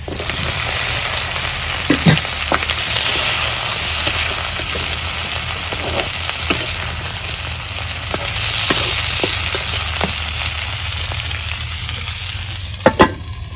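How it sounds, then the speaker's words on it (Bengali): Pieces of fried boal fish go into a pan of hot oil and onions, giving a loud continuous sizzle with occasional sharp pops and clinks of stirring throughout. "এখন মাছ ভাজাগুলা দিয়ে দিই।"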